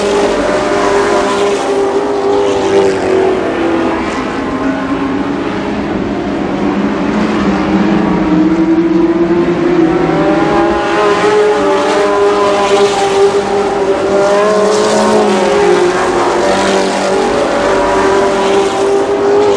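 Super late model stock cars racing at Columbus Motor Speedway in 1992, a loud sustained roar of several engines droning and shifting pitch as the pack passes close.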